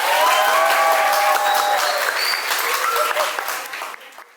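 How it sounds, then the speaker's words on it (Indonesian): Classroom applause from a group of students during a Javanese lesson, a dense burst of clapping that starts loud and gradually thins out over a few seconds, with some voices mixed in. "beri tepuk tangan"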